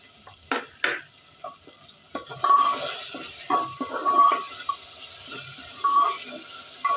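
Sliced onion and curry leaves sizzle steadily in a hot pan for a rice dish, with repeated scraping and clinking strokes of a spoon stirring close up, and no talking.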